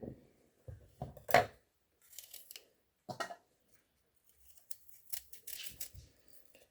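A crinkle cutter slicing apples in half on a board, several sharp separate cuts and clacks spaced across the stretch with quiet gaps between, close and clear, no voices.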